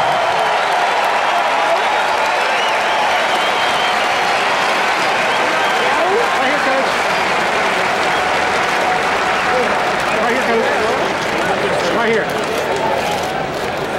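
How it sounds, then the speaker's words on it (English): A large crowd at a college football awards ceremony applauds continuously, loud dense clapping sustained for the whole stretch with some cheering mixed in. "Let's give him a big, hooky round of applause."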